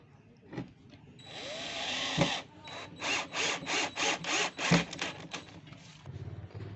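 A power drill drives screws into a wooden board while assembling furniture, whirring in a run of short repeated bursts with brief pauses between, close and fairly loud, preceded by a longer grinding spin.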